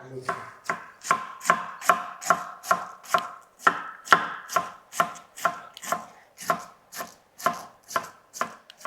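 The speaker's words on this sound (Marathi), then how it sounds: "आपल्याला कोबी चिरून घ्यायचा आहे असा चिरलात ना की भाजीला खूप छान चव लागते" A knife chops cabbage on a board in a steady run of sharp, close cuts, about two per second, with no talk.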